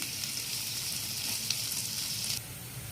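Onion, garlic and green chillies sauté in hot oil in a pan, giving a steady close sizzle that runs on its own throughout and drops slightly at the end.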